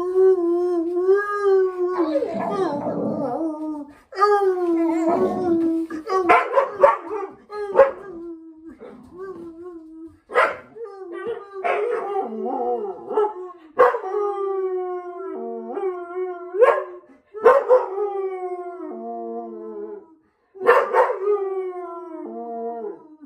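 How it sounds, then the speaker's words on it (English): A dog howls and yips in long rising, wavering phrases alongside plucked cigar box guitar music, the howls coming in repeated loud bursts with short pauses between them. "See if I can get the dog to sing."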